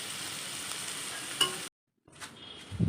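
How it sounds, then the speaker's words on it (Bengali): Food fries in a pan at home, giving a steady, soft sizzle with a brief clatter, a short cut to silence, then the sizzling resumes with some handling noise. "মাকে বললাম তো অল্প করেই ভাজবে"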